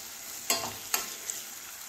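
Green chillies and garlic sautéing in a pan for carrot-radish pickle, a quiet continuous sizzle with two distinct spoon scrapes and a faint tap, close by with no voices.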